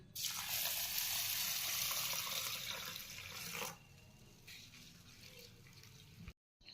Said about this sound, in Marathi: आता आपण याला दोन ते तीन पाण्याने स्वच्छ धुवून घेऊ